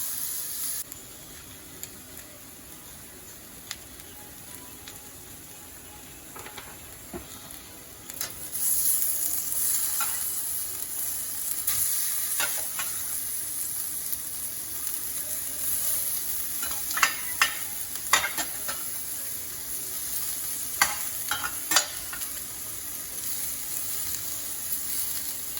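Lyonnaise potatoes frying in a pan, a steady sizzle that swells louder partway through as the potatoes are stirred and pushed aside, with occasional sharp scrapes and taps of the utensil against the pan.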